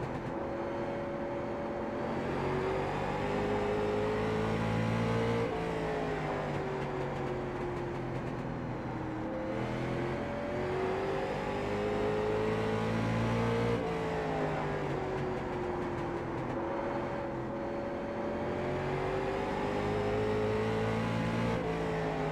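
Late model race cars running laps at Langley in the iRacing game, a constant close engine roar that rises in pitch, dips at each lift and then climbs again, repeating through the lap.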